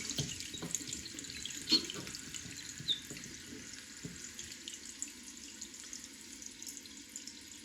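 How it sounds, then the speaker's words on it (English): Water runs steadily into a toilet tank refilling after a running-toilet repair, a continuous soft hiss and trickle with faint clicks, close and quiet. "And wait for the toilet to fill back up."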